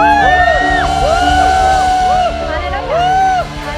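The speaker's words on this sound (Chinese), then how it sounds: "再一次把掌声加呼喊！" A church congregation at a Sunday service claps and shouts together, a loud dense roar of crowd voices and whoops with strong singing-like cries rising over steady applause.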